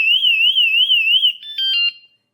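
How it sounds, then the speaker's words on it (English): A WSDCAM screw-mounted vibration anti-theft alarm blares a loud, piercing warbling siren, then shifts to a few short stepped electronic beeps before cutting to silence. "It has a great alarm, as in the people across the street could probably hear that"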